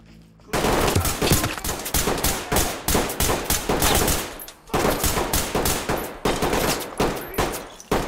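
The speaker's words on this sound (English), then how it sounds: "Guy's just trying to shoot me through the wall." Sustained automatic gunfire in a tactical breaching shooter game, shots fired through a wall in rapid, rhythmic bursts, loud and close, after a brief quiet start and with a short pause midway.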